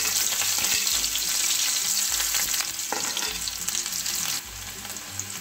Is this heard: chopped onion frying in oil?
yes